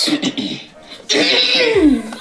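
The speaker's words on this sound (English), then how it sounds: "Sorry, I had to clear my throat." Close-up, harsh throat clearing comes in a couple of raspy bursts, the second longer and louder, with a bit of voice mixed in.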